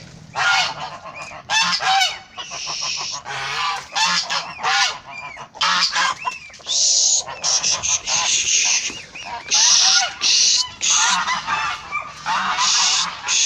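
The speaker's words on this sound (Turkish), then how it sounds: "Kazlar da çıkıyor, onları da çıkıyor." A flock of geese honks loudly and repeatedly close by, overlapping nasal calls coming in busy bursts with short gaps between them.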